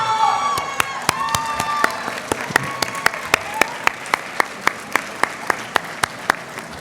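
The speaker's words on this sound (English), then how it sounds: "give a heartfelt applause to honor your parents, families, and loved ones who have made your presence here possible" An audience at a Latina/o graduation celebration claps in a sustained round of applause, many hands blending at first and settling into a steady rhythmic beat, with cheers and whoops mixed in.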